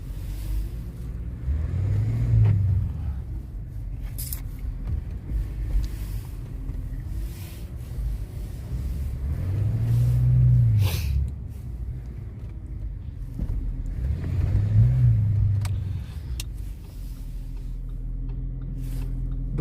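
An Audi A8 with a non-original exhaust line drives along, giving a low, steady engine and exhaust rumble with a few slow swells as it accelerates, heard from inside with no talk.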